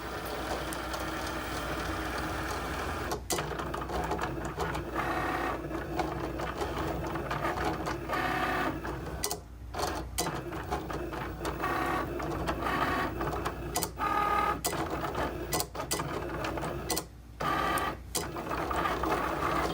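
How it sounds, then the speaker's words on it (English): A Cricut machine cuts vinyl letters for a wooden crate, giving a close, steady mechanical whir with repeated carriage movements and brief pauses and clicks between passes. "it's cutting out the letters that I'm going to put on this crate."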